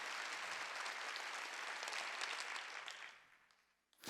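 A church congregation claps together during a sermon, a loud, dense wash of applause that holds steady and then fades away near the end.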